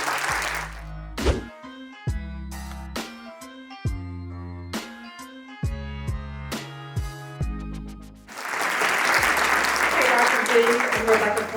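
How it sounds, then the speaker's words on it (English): Organ or keyboard chords ring out at a live church-style talk event, followed by a swell of audience applause and cheering that rises loudly near the end. "Clap for that."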